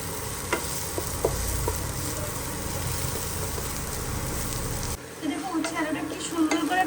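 Fish pieces fry in a pan until reddish-brown, giving a steady close sizzle with scattered crackles and pops. The hiss is thick at first and then thins into sharper, brighter spits for the final seconds.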